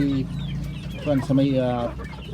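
Paraoakan chickens, a hen and a rooster, clucking in their coop, with several clear rising and falling clucks close by in the middle of the clip over steady background noise.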